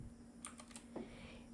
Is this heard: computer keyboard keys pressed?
yes